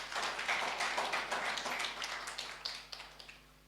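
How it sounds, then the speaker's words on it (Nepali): A seminar audience in Kathmandu breaks into scattered applause, a dense patter of claps that thins out and fades toward the end. "आई वॉज एक्सपेक्टिंग एटलीस्ट आप लोग यहाँ तो ताली बजाते।"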